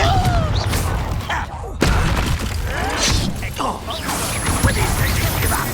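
Confringo blast spells in Hogwarts Legacy, loud fiery impacts and crashing explosions with shattering debris, mixed with combat effects and a voice shouting in the game.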